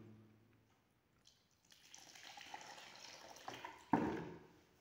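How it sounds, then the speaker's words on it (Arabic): Water is poured gradually into a white cement mix for a 5 kg veterinary sulfa lick block, a steady soft trickling splash that thickens over time and ends in a louder, closer burst of pouring. "إذا نضيف الماء بالتدريج"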